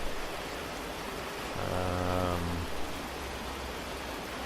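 Steady pouring rain from the Cataclysm DDA game fills the scene as a constant, even hiss, with a short, low humming tone rising briefly in the middle.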